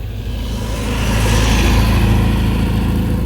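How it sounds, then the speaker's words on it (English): An open-top MG car drives past on a country road in the Romney Marshes, its engine note swelling loud and close into a steady broadband roar over the whole short stretch. "A lovely MG. Great day to be out in an open top vehicle like that."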